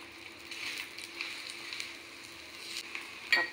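Onion paratha frying on an oiled tawa griddle, a soft, steady sizzle close by with faint scraping near the end and no talk.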